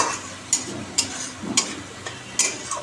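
Fish cooks in hot oil with a spiced masala and a splash of water, a soft sizzle broken by a few sharp utensil clinks and stirring scrapes, close by and with no talking.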